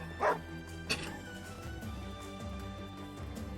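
A dog commander in the Wargroove strategy game gives two quick cartoonish barks near the start, heard over a looping game soundtrack.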